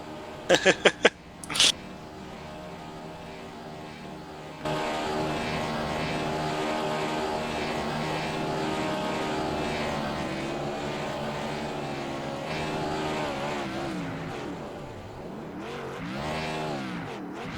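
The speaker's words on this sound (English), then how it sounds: "show you that 70 machine making the donuts on the front stretch" A number 70 stock car does donuts on the front stretch at an AdvoCare Cup Series oval race, its engine roaring loud and sustained with revving swells, after a few short sharp bangs at the start.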